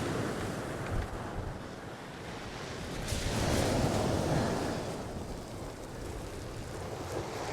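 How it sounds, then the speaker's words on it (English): Strong wind and crashing surf batter the shore at Selsey during a storm, a loud, continuous roar of waves and wind buffeting the microphone, swelling midway and then easing. "you can feel the wind pushing against the rod"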